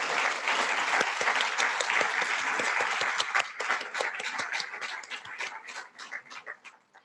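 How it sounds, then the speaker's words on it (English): An audience at an awards ceremony applauds, loud dense clapping that holds steady and then thins into scattered individual claps as it fades out. "Let's give all involved in making these projects a reality a round of applause for these amazing achievements."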